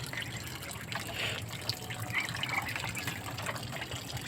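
Water runs steadily from a tap close by, trickling and splashing continuously with small gurgles and no one talking.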